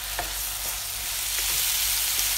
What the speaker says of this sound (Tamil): இது எல்லாம் நல்லா வதக்கணும்.